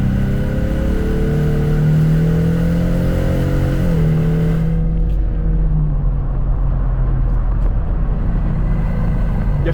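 A 2024 Ford Mustang EcoBoost engine climbs in revs under acceleration, its drone rising in pitch, dipping briefly at a gear change, then pulling on as a loud, close in-cabin hum.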